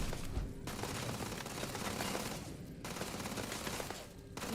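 Sustained bursts of rapid gunfire from a Starfield firefight roar steadily throughout, dense and close, with brief dips between volleys and no talking.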